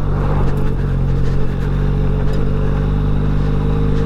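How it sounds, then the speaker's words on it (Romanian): A motorcycle riding on a rough unpaved dirt road where the asphalt has just ended, not built for off-road use; a steady, loud engine drone with rattling and clatter from the rough surface, continuous with no talk. "deși motocicleta asta nu este făcută pentru mers off-road"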